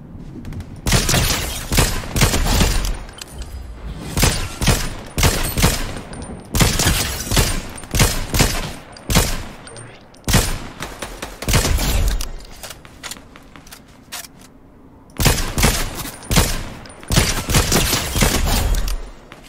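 Fortnite gunfire plays loud and close as rapid bursts of shots and volleys, broken by brief pauses and continuing nearly throughout.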